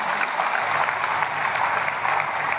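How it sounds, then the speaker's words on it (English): A church congregation applauds with steady, continuous clapping throughout a sermon, fairly close and even in volume. "Clap for him."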